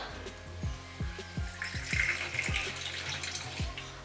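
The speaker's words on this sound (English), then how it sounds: "And then I am going to add some water." Water pours and splashes steadily into a container at close range, with rhythmic low thumps beneath the running stream.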